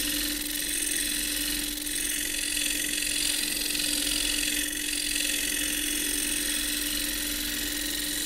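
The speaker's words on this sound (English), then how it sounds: "I can take that off most easily with the shear scrape" A shear scraper is drawn across a spinning wooden cylinder on a lathe, producing a continuous, fairly loud whirring scrape over the steady drone of the machine.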